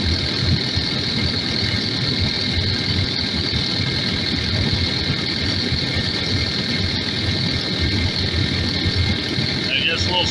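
Takeuchi TL12V2 track loader engine running in extreme cold around -30C, with a steady, continuous idling rumble and a constant mid-range drone lasting throughout, close and unbroken.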